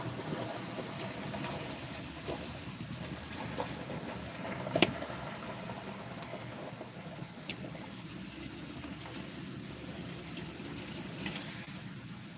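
A CSX freight train rumbles by at a distance in Beaver Falls, Pennsylvania, a steady low drone with faint rail clanks and an occasional sharper knock.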